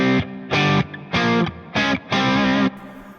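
Electric guitar through a PRS amp set for a Marshall-style tone with added reverb, played as five loud, sustained distorted chords with short gaps between them, the reverb tail ringing briefly at the end.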